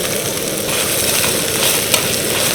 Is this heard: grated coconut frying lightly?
yes